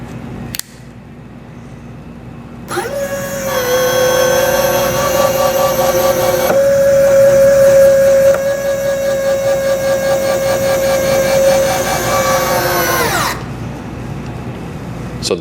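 Robart electric retracts cycle the landing gear on an ESM 85-inch 50cc F4U Corsair RC plane, a close whining electric motor hum held for about ten seconds with a slight pitch change midway, starting and stopping with soft clicks.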